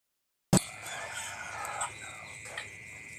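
Backyard chickens in a net-fenced coop feeding on cool watermelon, giving steady nearby clucking and fowl calls that begin abruptly and continue over a faint, busy farmyard background.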